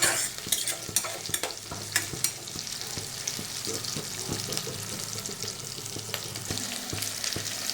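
Brinjal pieces, previously soaked in salt water, fry with curry leaves in a pan: a steady, close sizzle broken by frequent sharp clicks and scrapes of a spatula stirring, with no voices.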